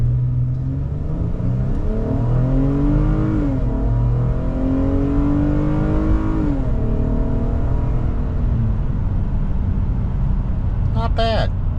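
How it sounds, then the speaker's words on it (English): A fourth-generation Ram 1500 pickup accelerates at full throttle, a steady loud engine roar rising in pitch through the gears and heard from inside the cab, with a short beeping chime near the end. "All right, let's do a full throttle."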